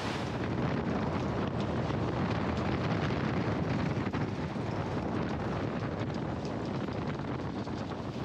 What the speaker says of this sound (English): our northerly wind had finally arrived, and with quite a bit of pressure